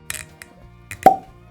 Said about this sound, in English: Ooh, great cork pop.